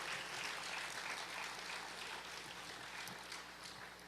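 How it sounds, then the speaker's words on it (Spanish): A church congregation applauds steadily for about four seconds, a dense, even wash of clapping with no talk over it. "Sí, dale ese aplauso al Señor."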